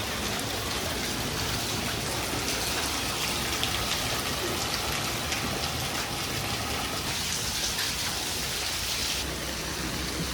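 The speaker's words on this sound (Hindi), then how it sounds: "हमारे गांव में पहली बारिश हो रही है आज।" The first monsoon rain falls on a village, a dense, steady patter and hiss of rain on the ground and surfaces, continuous and moderately loud with no voices.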